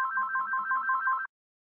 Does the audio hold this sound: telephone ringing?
yes